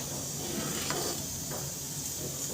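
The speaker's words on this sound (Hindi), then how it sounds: "तो थोड़े से और पका लेते हैं और बीच बीच में चलाते रहेंगे।" Samak rice thickening as it cooks in a pan gives a low, steady sizzle and hiss, with a couple of faint spoon-stirring scrapes and no talking.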